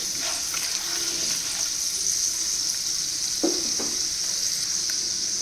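Chopped onions hit hot oil in a pan while cooking a beans fry, giving a loud, steady sizzle throughout, with a few faint stirring clinks and no voices.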